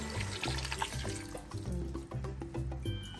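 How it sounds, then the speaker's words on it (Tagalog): Coconut milk poured into a cooking pot, a steady close liquid gurgle and splashing stream with a faint rhythmic background thump. "Lagyan natin itong gata."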